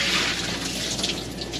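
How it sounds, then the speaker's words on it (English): Dirty wash water pours steadily from a folding portable washing machine during off-grid laundry, a continuous loud splashing gush with no talk over it. "I'm just going to drain these real quick. Let's dump."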